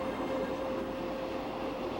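Steady rumble of the Eastern and Oriental Express luxury train running through Thailand, a continuous rolling drone with faint rhythmic wheel clatter and a thin tonal whine, heard from inside with no talking.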